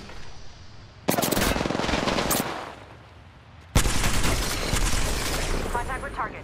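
Two long bursts of rapid automatic gunfire in an Apex Legends firefight, loud and close, the first lasting about a second and a half and the second running on to the end with heavy reverberant rattle.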